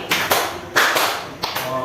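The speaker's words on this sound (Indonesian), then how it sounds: "Tepuk 4 kali." A classroom of students claps in unison on a teacher's count of four, a few sharp, close group claps separated by short uneven gaps, with faint voices between them.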